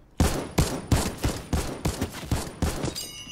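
Rapid gunfire from an upgraded weapon in the video game Fortnite, eight sharp, evenly spaced shots in quick succession, loud and close with no talk over them.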